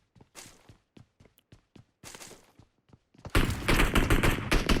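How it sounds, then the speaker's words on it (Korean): Gunfire from the PUBG Mobile video game: a string of sharp single shots and short bursts, then a dense, loud sustained volley of rapid automatic fire toward the end. "잘 쏜다"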